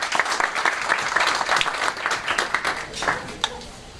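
An audience at a political forum with Senate candidates in Rio Grande do Norte bursts into applause, a close, lively round of clapping lasting a few seconds with uneven bursts and no voices.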